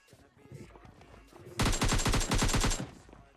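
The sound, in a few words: sniper rifle gunfire in a video game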